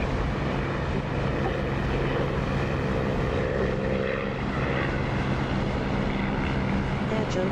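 Propeller aircraft engine in a DCS flight simulator shortly after takeoff, with RPM being pulled back to 2,700: a steady, loud droning roar with a constant low hum, unbroken throughout, under a man's speech.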